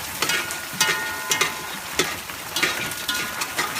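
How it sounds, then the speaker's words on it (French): Onions sweating in a pan with salt and ginger, a soft continuous sizzle broken by regular spoon scrapes and taps as they are stirred, close and fairly loud with no voices. "Là, on fait suer les oignons."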